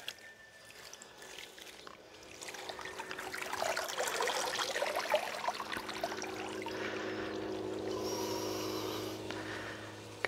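Cannabis buds are shaken in a container of vinegar water, giving soft, close sloshing and trickling that swells in the middle and stays faint and wet, alone without speech.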